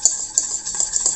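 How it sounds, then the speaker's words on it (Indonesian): Egg yolks being whisked in a bowl, a steady scraping whir with a few sharper clicks of the whisk against the bowl, close and alone. "pertama-tama kita kocok dulu kuning telur"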